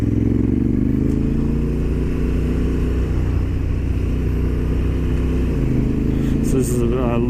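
A Honda Africa Twin motorcycle rides along a road near the start of a dirt track, its engine droning steadily and loudly up close with wind rumble, while a rider talks over it.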